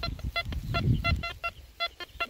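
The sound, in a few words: metal detector signal tone over a find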